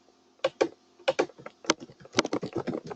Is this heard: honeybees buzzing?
no